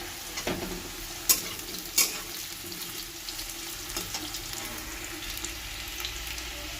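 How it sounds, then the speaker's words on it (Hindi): Pieces of elephant foot yam fry in oil, a soft steady sizzle broken by a few sharp utensil clinks and stirring scrapes, heard close up. "सबसे पहले मैं ओल के फ्राई करके इस तरह से निकाल लूँगी।"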